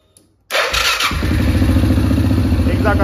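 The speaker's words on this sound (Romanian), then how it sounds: "Sunt foarte mulțumit că am pornit motorul și că se aude bine" A Suzuki KingQuad 750 ATV engine catches after a brief quiet moment and settles into a loud, steady, close-up idle with a throbbing mechanical chatter.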